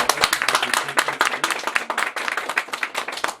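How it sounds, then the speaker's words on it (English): Schoolchildren at a primary school literacy event giving a round of applause, a dense burst of many small hands clapping close together, loud and continuous, with no talking over it. "So I would like you to give yourself a round of applause"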